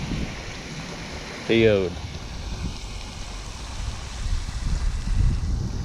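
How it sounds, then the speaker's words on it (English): Strong wind buffets the microphone in a steady low rumble on a bass fishing boat on open water, and someone briefly speaks partway through. "This wind ain't playing, man. This wind is not joking around with nobody."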